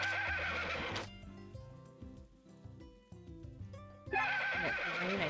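A horse named Nebula gives loud whinnies at the start and end with softer snorting and stable noise between, close by on a farm in the morning.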